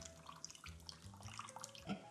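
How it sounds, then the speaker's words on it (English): Pineapple juice pours from a can into a pan of ham already holding cola, a soft steady liquid trickle with light splashes, faint and close, without any talk. "And then we're gonna pour the rest of this pineapple juice"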